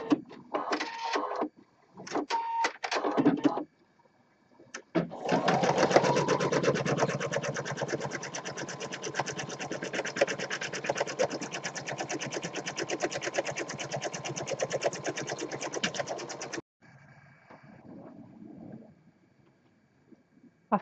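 An embroidery sewing machine stitches a design for a tissue box project, a rapid mechanical rattling hum running steadily for about eleven seconds after a few short start-and-stop bursts, then dropping to quieter handling sounds.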